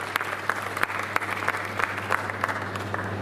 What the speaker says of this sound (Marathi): एकदा जोरदार टाळ्या त्या सर्व महिलांसाठी.